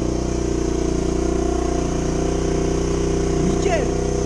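A brand-new 125cc motorcycle engine idling steadily on its very first start, a constant close buzzing drone with a brief higher rise near the end.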